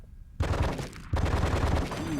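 Rapid automatic gunfire bursts out loud and dense in the shooter video game Die Hard: Vendetta, a sustained rattle of shots with a short dip before the firing resumes.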